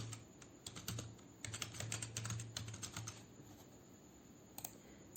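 Fingers type numbers on a computer keyboard while filling a spreadsheet in Excel, giving quick clusters of light, close clicks with short pauses, then a few isolated keystrokes toward the end.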